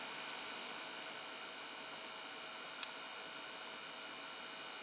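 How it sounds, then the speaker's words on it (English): A 300 ml ultrasonic air humidifier and aroma diffuser gives off a faint, steady fan hum, close and continuous, with one tiny tick partway through and no voices. "You may be able to hear just a little bit of a hum from the fan."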